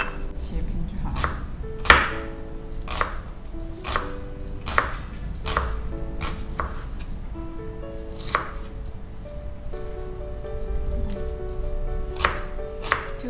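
A knife slices leeks (green onions) on a cutting board in a home kitchen, giving regular sharp chops roughly every half second to second. Tonal background music runs steadily underneath.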